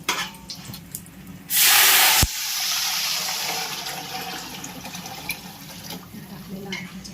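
Water is poured onto well-soaked rice for a chicken dum biryani: a loud, close gush lasts under a second, then gives way to a softer running flow with kitchen noises.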